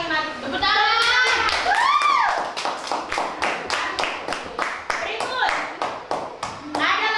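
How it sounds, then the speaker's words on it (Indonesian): Schoolchildren in a classroom clap their hands in a brisk, fairly loud round of individual claps after someone speaks, with a voice briefly heard at the start. "Tepuk tangan."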